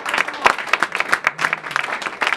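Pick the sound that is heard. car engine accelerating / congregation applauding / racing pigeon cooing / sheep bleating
congregation applauding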